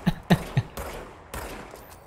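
Gunfire in a video game played on Xbox through a web browser: three sharp shots in quick succession at the start, then a lower, rumbling tail of weapon noise with no talk.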